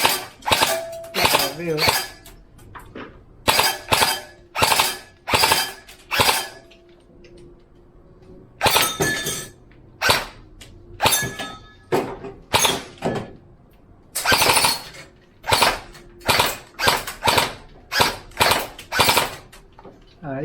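Airsoft gun firing at an indoor shooting range in bursts of sharp cracks with short pauses between volleys, close and loud, with a brief exclamation from a voice.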